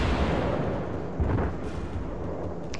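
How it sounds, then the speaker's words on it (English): Heavy naval guns of a warship firing in World of Warships, a deep rolling boom with dense, sustained low rumble throughout, loud and close. "Aiming guns, kill him."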